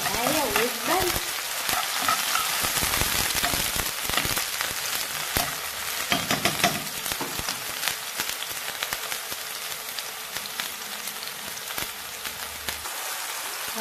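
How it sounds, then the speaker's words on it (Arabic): Peppers fry in a hot pan as they are stirred and toasted, a continuous crackling sizzle with scraping stir sounds close up, and a voice briefly heard at the start. "اقلبه شويه بس لحد ما يتحمص كده معايا ويدبل"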